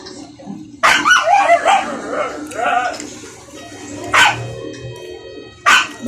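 A pet dog barking at home: three loud, close bursts of barks spaced a few seconds apart, with a person talking between them and faint birds in the background.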